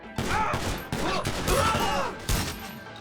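Gunfire in the video game GTA 5 during a heist, a loud close burst of several rapid shots with sharp onsets and ringing tails, following one another over about three seconds.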